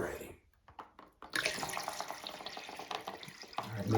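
Water pours and splashes steadily as a large toilet tank rig called a Mega Tank fills for a homemade holiday fountain, a running, hissing flow that starts after a brief quiet gap and continues loud and close.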